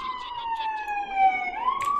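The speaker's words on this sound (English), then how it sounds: "I live on a main street and I hear sirens in the background" From a main street, a siren wails in the distance behind a quiet room, its long gliding tone slowly falling and then rising again over soft low background rumble.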